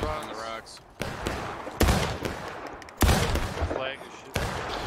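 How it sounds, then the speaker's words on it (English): Rifle fire from War of Rights, a Civil War battle game: several loud, sharp musket-like shots crack at intervals over a busy battlefield din, with voices talking underneath. "Keep peppering those rocks with fire."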